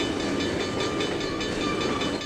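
A train rolling along the track in Trainz 2022, a steady loud rumble with rhythmic wheel clatter, close by and continuous, with no voices.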